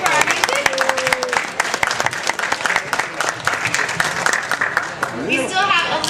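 Crowd applause for a band at the RiverRocks 2010 event, sustained clapping from a sizable audience with a few voices and cheers mixed in near the end.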